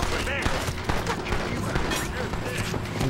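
Rapid, dense gunfire in Red Dead Redemption while hunting a wanted-poster target: many sharp shots cracking in close succession amid a busy game mix with voices.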